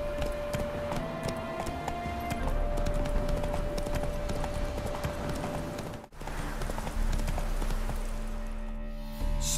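Roach the horse trotting in The Witcher 3, steady rhythmic hoof clip-clops close by over ambient game music and environment, continuing throughout with a brief dip near the middle.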